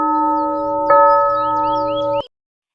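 A village temple bell rings at evening, a sustained metallic tone struck again partway through, then cut off abruptly, heard clearly with no voices.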